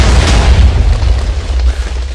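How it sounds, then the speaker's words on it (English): A Minecraft FTB explosion goes off: a loud, dense rumbling blast with a broad roar that holds steady for a couple of seconds and trails slightly at the end. "I'll try to record the explosion if possible"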